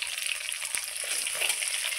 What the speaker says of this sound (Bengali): আমি এখন এক এক করে মাছগুলো দিয়ে দেবো।